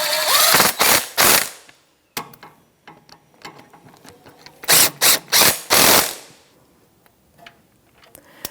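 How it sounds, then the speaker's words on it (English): Ratchet with a 13mm socket snugging bolts on a 2008-2013 Nissan Rogue front CV axle job, loud close bursts of rapid clicking in two groups separated by quieter handling clatter. "13mm socket, and we'll snug that up"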